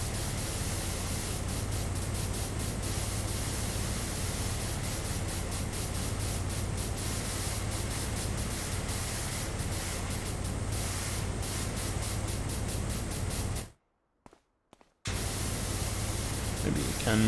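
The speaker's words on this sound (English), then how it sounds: "Just the sound of the water hitting whatever it is that you're washing." Steady broadband hiss of a pressure washer jet hitting surfaces in PowerWash Simulator, continuous and loud throughout, cutting out briefly for about a second before resuming.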